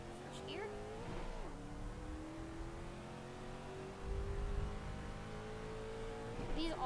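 An F2 race car engine in the iRacing video game drones steadily with rising and shifting pitch, changing gear a few times, with some background rumble.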